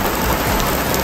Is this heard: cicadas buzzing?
no